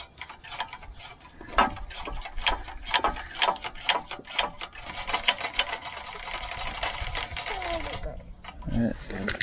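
A part on an old racing kart saved from scrap is worked loose with quick ratcheting clicks and metallic turning, close and busy, with a short stretch of rougher grinding near the end.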